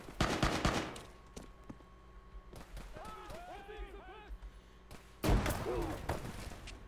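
In the Arma 3 video game, a frag grenade is thrown and bursts with a heavy, booming blast after a stretch of radio chatter, with a burst of gunfire at the start and voices talking throughout.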